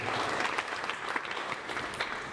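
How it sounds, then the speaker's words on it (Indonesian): A church youth congregation claps during a worship service, dense steady applause from a crowd in a hall, moderately loud and continuous with no talking. "Beri tepuk tangan buat Tuhan kita."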